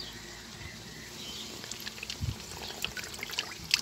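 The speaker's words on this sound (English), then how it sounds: "see if you can tip the water in this bit at the side" Water is tipped from a small cup into a toy, giving a faint, quiet trickle with a few small splashes and drips over a few seconds, with no voices.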